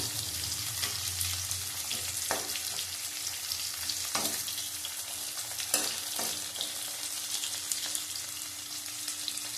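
Green chillies and vegetables for a tangra fish curry frying in oil, a continuous close sizzle with intermittent stirring scrapes and spatters, no voices.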